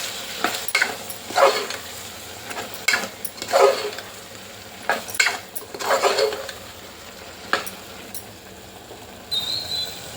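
A spoon stirs grated coconut into mutton tomato curry in a pan. Scraping swirls and faint sizzling come in repeated bursts about once a second, close and moderately loud, with a brief metallic squeak near the end and no talking.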